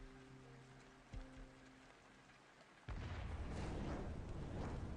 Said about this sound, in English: The sound of an explosion suddenly tore through the air.